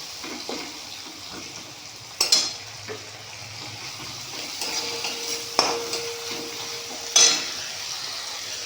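Tomatoes with ginger and green chili paste fry in a pan: a soft continuous sizzle broken by a few sharp spatula clinks and stirring scrapes, close by, with no talking.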